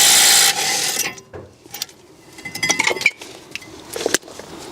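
A socket ratchet works on the caliper bracket bolts of a BMW E90/E91/E92 during a brake job: a short burst of whirring, then scattered metallic ratcheting clicks and clinks, close up and fairly quiet.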